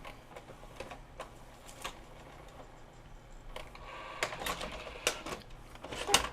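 A JVC HR-VP636U VHS VCR mechanism runs with its capstan spilling tape, making close, mechanical clicks and ticking clatter that start sparse and grow busier and louder toward the end, with no talking.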